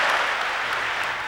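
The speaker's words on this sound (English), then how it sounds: "The applause for the CIA director may be short-lived." Applause for the CIA director fills the clip as a dense, steady wash of many hands clapping at moderate loudness, with no voices over it.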